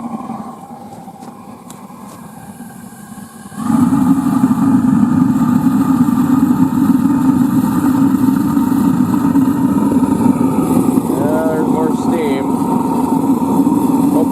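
A homemade metal foundry furnace roars steadily after being cranked up, a loud continuous blower-and-flame rumble that jumps in level a few seconds in and holds, with a faint whistle near the end.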